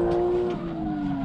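A drifting car's tires squeal loudly in a sustained, wavering screech over engine noise, close and brief with no talk.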